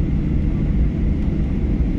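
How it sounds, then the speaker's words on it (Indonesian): Steady, loud low rumble of a Garuda airliner at a Jakarta airport, a continuous engine roar and drone filling the whole clip without pauses or speech. "Ini adalah pesawat Garuda."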